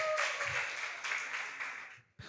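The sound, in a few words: audience applause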